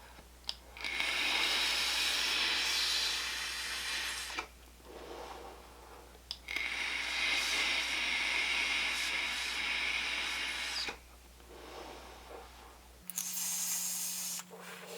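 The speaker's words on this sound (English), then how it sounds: "let's go ahead and have a vape on it" Vaping an Arymi Armor starter kit with a 0.3 ohm direct-lung CHC coil and large airflow slots, two long airy draws of steady hissing with a short pause between, followed by a brief third burst.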